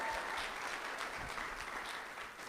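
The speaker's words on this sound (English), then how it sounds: "Give yourselves a hand of applause." An audience at a political candidates' forum breaks into a dense, steady round of applause, close and sustained, easing off only slightly toward the end.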